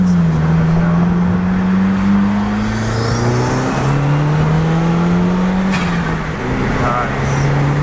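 Subaru WRX with a custom exhaust heard from inside while driving, a loud, rumbling engine drone that rises and falls with shifts through the gears, and voices faintly underneath.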